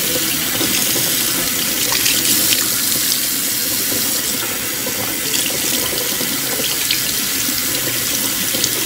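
Tap water runs steadily into a sink while fish is being cleaned by hand, a continuous close splashing hiss with no talk over it.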